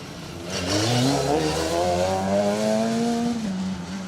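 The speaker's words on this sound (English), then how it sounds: "In that great sounding Corsa kit car that Kev Monaghan built to take on the Bowtie Motorsport UK Asphalt Rally Championship" A Corsa kit car built by Kev Monaghan for the UK Asphalt Rally Championship, at the Alan Healy Memorial Rally 2023. Its engine revs and climbs through the gears, swelling in loudly as it passes close by, then holds a high, rasping note before easing off.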